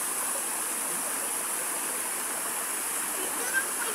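A river stream at Sipa Falls in Padre Burgos, Quezon rushes with a steady, even hiss of flowing water that fills the whole stretch without pause.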